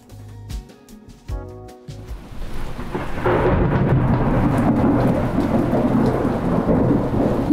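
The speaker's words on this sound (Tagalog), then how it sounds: "lakas ng ulan na sinasabayan ng matatalim na kidlat at malakas na hangin" Heavy rain pours steadily at night with strong wind, preceded by sharp cracks and rolling rumbles of thunder; the downpour swells into a loud, continuous roar that fills the remaining stretch.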